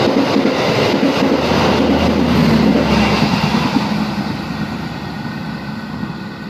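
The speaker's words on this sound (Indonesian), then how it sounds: "Pasundan berpapasan dengan Lodaya malam tuh di Aljabar" Two Indonesian passenger trains, the Pasundan and the Lodaya, pass each other at night at Cimekar station. Loud, close rumbling of wheels and cars with clattering rail joints rolls on, then slowly fades.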